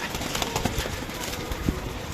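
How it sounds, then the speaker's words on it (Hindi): A flock of pigeons kept for sale in Lahore, with a dense, busy mix of cooing and fluttering close by, overlapping calls and soft thumps filling the whole stretch without talk. "ये पीछे टैडी कबूतर बैठा है"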